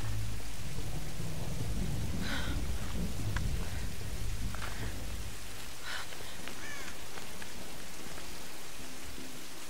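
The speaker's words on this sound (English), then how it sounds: "There's a storm outside." Thunderstorm ambience in the Tomb Raider video game, with dense, loud rain and deep rumbling thunder that fills the whole stretch and eases off slightly toward the end.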